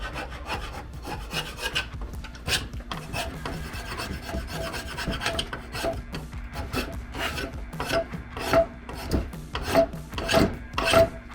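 A farrier's rasp files a wooden axe handle, producing repeated coarse scraping strokes up close, irregular at first, then settling into a steadier back-and-forth rhythm with brief squeaky edges.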